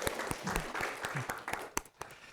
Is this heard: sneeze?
no